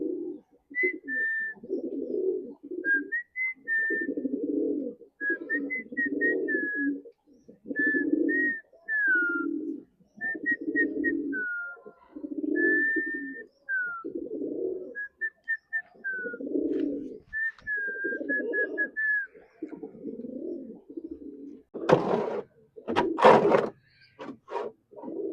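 Pigeons in a loft give repeated soft, throaty coos in a steady pulsing rhythm, close by, with higher chirps and whistles above them and a louder burst of rustling near the end. No one speaks.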